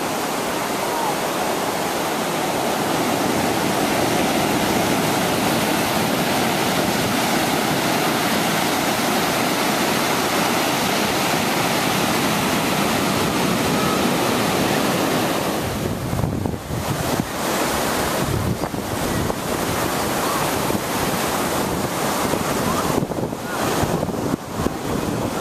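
Surf breaking on the sand at Maracas Bay, Trinidad, a steady wash of waves that fills the whole scene, with wind buffeting the microphone in bursts toward the end.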